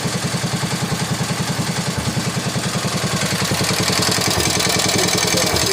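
A 1961 IH Cub Cadet Model 70 garden tractor's 7hp Kohler engine idles with a fast, loud, even chugging rhythm close by, the beat tightening slightly toward the end.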